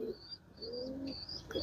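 A bright white Indian pigeon coos softly, a few faint throaty coos heard alone in a quiet setting.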